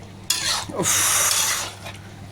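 Food stirred in a hot cooking pan, a sudden burst of sizzling hiss with scraping movement that swells for about a second and then eases back into a low background hum.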